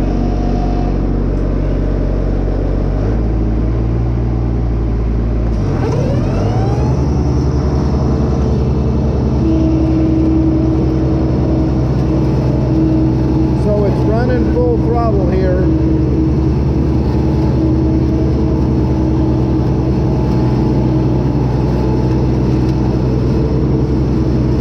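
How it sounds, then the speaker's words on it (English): A Grasshopper diesel mower motor runs loud and close, its low rumbling drone dipping and straining as it pulls down under mowing load, with shifting pitch swoops and no talk over it. "give you an idea of both the sound of the motor while it pulls down"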